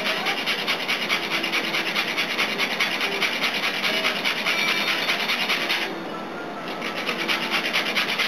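A jalapeno pepper is rubbed across a grater in steady, rapid rasping strokes for several seconds, close and fairly loud, with one brief pause before the scraping resumes; no voices.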